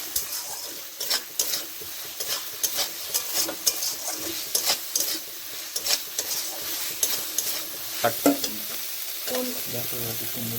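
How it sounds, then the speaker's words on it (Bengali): Spice paste for biryani sizzles in hot oil in a kadai, with frequent sharp scrapes and knocks of a spoon stirring against the pan over a low crackling hiss. "মশলাটা ভালো করে কষিয়ে নিতে হবে।"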